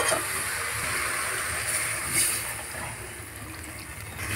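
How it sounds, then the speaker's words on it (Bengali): Water poured into a hot pan of braised vegetables for a village Bengali vegetarian dish, a continuous loud hissing rush that eases slightly toward the end, no talking. "এবার আমি এর মধ্যে কিছুটা জল দেব।"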